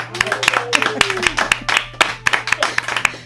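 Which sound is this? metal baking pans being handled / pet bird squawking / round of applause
round of applause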